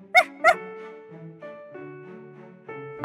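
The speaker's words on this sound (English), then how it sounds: "Pup barks." Two sharp barks from a dog, quick and close together, as a sound effect in a children's phonics story reading, followed by soft tonal music notes.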